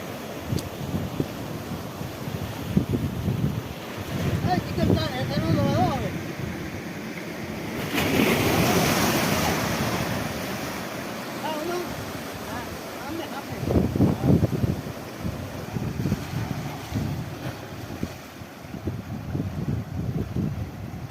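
Sea waves wash ashore at a seashore by a temple, rising and falling in rolling surges mixed with gusty wind buffeting the microphone, while voices come and go.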